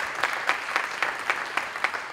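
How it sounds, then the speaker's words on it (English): A conference audience at a documentary event in Barcelona gives a soft, sparse round of applause, scattered claps coming in a loose rhythm and sounding somewhat distant. "So a big round of applause for Alex Navarro"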